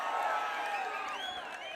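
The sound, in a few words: crowd cheering at a political rally in Ambasamudram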